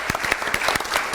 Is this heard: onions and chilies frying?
no